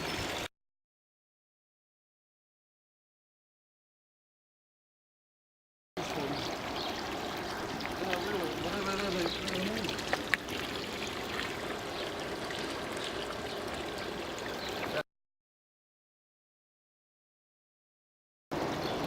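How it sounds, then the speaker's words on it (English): Water trickles and pours steadily over a backyard pond waterfall built with DWS, a continuous close splashing stream framed by silent gaps at the start and end. "my waterfall is kind of whack, so I'm going to make a better waterfall"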